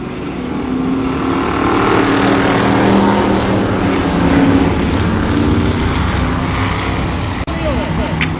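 Race cars running an eight-lap heat race at Columbus Motor Speedway, a sustained roar of engines droning around the track beneath an announcer's talk.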